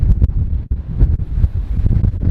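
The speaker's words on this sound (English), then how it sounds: "I hope you can hear me over the noise of the wind." Strong wind buffets a boat at sea off the Seven Sisters and Beachy Head, roaring and gusting in uneven bursts across the microphone, loud and close, with no talk.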